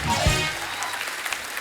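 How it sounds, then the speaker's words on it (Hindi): Brief burst of audience applause at a stand-up comedy show, steady clapping over about two seconds with a thump near the start. "जोरदार तालियां हो जाएं हमारे चारों धुरंधरों के लिए"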